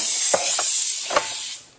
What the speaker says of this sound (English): I'm going to just take the baking pan and spray it in here